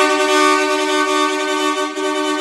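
A loud, sustained, dual-tone marine horn installed on a Honda City car blares continuously for a couple of seconds, close and brassy, with no speech.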